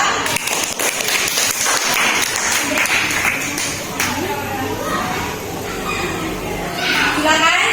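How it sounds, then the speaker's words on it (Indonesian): Students in a classroom clap for a presenting group, the lively applause mixed with children's chatter and shuffling, rising again toward the end. "Jadi berikan tepuk tangan untuk kelompok kartun ya."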